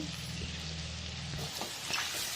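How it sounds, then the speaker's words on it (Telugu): Fresh curry leaves frying in hot oil in a pan, a loud, dense, continuous sizzle with crackle and some stirring, heard close with no talk. "ఇలా చక్కగా కలుపుకోవాలా ఒక్క నిమిషం దాకా పటపటలాడినట్టుగా ఫ్రై చేసుకోవాలా"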